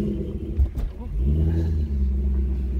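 Chevrolet C6 Corvette engine running, a steady low rumble that holds close and loud for the whole stretch, with a brief revving swell near the start.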